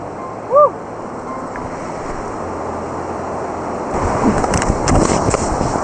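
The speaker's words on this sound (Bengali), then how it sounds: "আর এই নদী কিন্তু যতটা দেখতে সুন্দর কিন্তু ততটাই বিপজ্জনক" A mountain river rushes over boulders at Kasol in Himachal Pradesh, a broad continuous hiss of water, close and steady, growing somewhat louder toward the end, with a brief voice early on.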